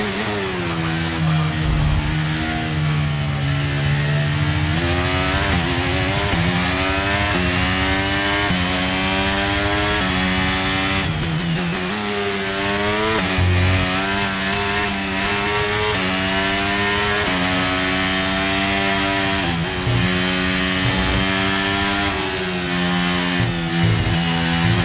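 An F1 car engine in the F1 23 racing game at the Saudi Arabia Grand Prix screams loudly and continuously, its pitch climbing and dropping through gear shifts with steady rhythmic revving and no talk.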